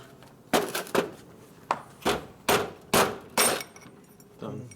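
A hammer strikes a part on a 1950 Harley-Davidson Panhead motorcycle in a series of about eight sharp, metallic blows, irregularly spaced with brief gaps between them, close and distinct against a quiet background.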